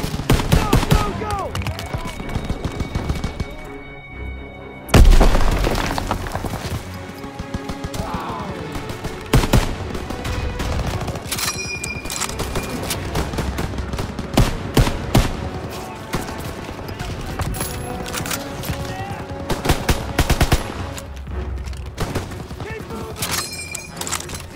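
Rapid machine gun fire and scattered rifle shots crack through a World War II battle around a barn in Call of Duty WW2. Dense, loud bursts run almost continuously, with shouted voices in between.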